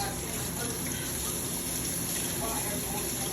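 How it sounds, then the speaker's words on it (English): Sea moss being rinsed under steady running water, a continuous close rushing and splashing that fills the whole moment without pause. "rinsing it off really good, making sure it doesn't have anything in it before I use it"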